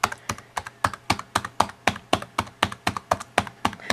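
Mechanical computer keyboard typed at a steady pace with light presses, each key giving a sharp, clacky stroke in an even run of about five strokes a second, close and alone.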